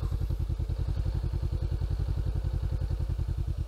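A motorcycle idles in first gear and begins to creep forward, its engine throbbing in a steady, rapid low pulse, close and continuous with no voices.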